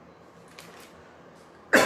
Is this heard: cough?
yes